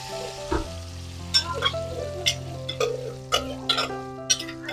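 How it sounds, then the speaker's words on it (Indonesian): Sambal balado fries in reused oil left over from frying fish, a soft close sizzle with bursts of crackle and stirring, interrupted by a brief cough. "kita buat goreng sambal baladonya lagi"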